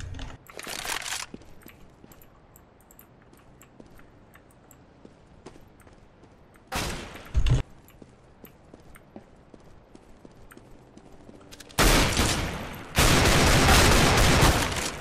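Shotgun and pistol fire from a Counter-Strike: Global Offensive match: a few loud, dense bursts of shots, one short volley near the start, another in the middle, then a sustained heavy barrage toward the end, with quieter game ambience between.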